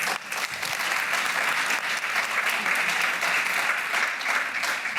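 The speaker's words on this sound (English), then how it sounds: "Come on, round of applause." Steady, dense applause from a panel-discussion audience at an African music industry event, filling the room at even loudness throughout with no talk over it.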